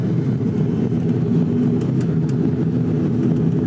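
An airplane passes low near a road crossing gate that closes to hold traffic, producing a loud, steady, close engine roar with a heavy low rumble throughout and no speech.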